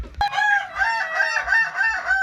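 A Kokok Balenggek rooster, a West Sumatran crowing breed kept as a breeding male, lets out one long, loud crow close by. The crow is a tonal call with several rising and falling segments, after a brief sharp sound at the start.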